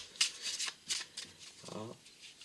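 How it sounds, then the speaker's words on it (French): A magician shuffles a deck of cards, making several quick, soft riffling and flicking bursts up close, ending in a short fluttering riffle. "il vient mélanger le paquet pour bien perdre la carte du spectateur"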